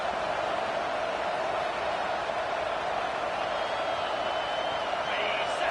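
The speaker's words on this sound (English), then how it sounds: "The roar of the crowd trying to fuel this defense to keep them pinned in their own end" Stadium crowd roaring steadily in an NCAA 25 college football video game, a dense, continuous wash of noise with a commentator talking over it.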